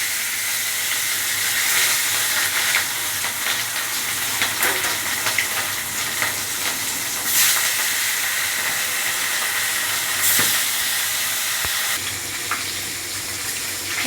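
Bhangor fish frying in hot oil in a kadai, a steady loud sizzle and steamy hiss running throughout with a few brief crackles and no voices.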